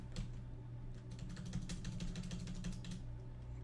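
Quiet, quick keystrokes tap on a computer keyboard in short irregular runs, close by and faint, with no talking.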